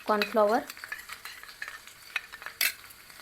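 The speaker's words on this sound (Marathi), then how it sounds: "तेल कडकडीत गरम झालं की यामध्ये टाकून घेतले" Garlic and green chili pieces hit very hot oil, a brief crackling fry with a few stirring scrapes and a sharp clatter near the end, fairly quiet and close with no talk.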